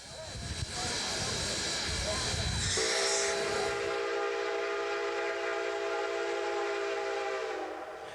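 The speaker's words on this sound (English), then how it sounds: "depicting the arrival of 2 steam engines" A steam locomotive whistle blows a long, steady multi-tone blast over rumbling, hissing noise as two steam engines arrive, with a busy mix of engine chuffing and crowd murmur before it.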